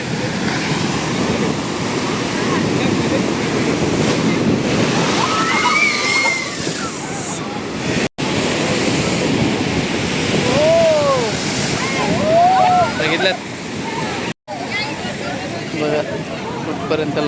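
Tall ocean waves surge and break at Ganpatipule beach, a continuous loud wash of churning surf and sloshing water up close, with people talking and calling out over the roar.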